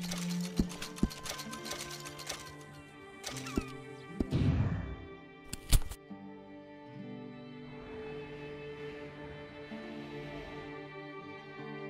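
A horse's hooves clip-clopping in the Red Dead Redemption 2 western game, a few sharp knocks and a brief clattering burst up close, then fading into quiet ambient tones.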